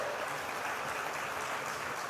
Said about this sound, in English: Give a big round of applause to the Subhash Paldesai